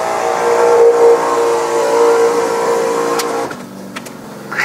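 The convertible top of a 1966 Ford Thunderbird 428 folds on battery power, a steady whining electric motor hum that shifts pitch and ends with a few mechanical clunks, close and loud.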